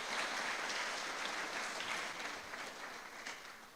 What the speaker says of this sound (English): give the Academy a major round of applause for taking this particular initiative